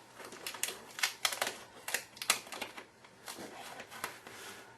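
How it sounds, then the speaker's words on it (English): Masking tape peeled slowly off the fretboard of an old hollow-body guitar under restoration, a run of soft, close tearing and crackling strips of varying strength, without any speech. "Let's peel all this tape off now."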